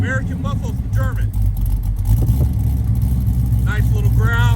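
A Porsche 928 V8 with a 3-inch exhaust idles with a low, steady growl at close range, with brief bursts of a person's voice heard over the rumble.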